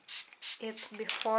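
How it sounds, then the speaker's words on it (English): Two quick bursts from a spray bottle misting hydrogen peroxide onto an orchid, sharp hissing puffs, followed by someone talking. "I spray the orchid with hydrogen peroxide"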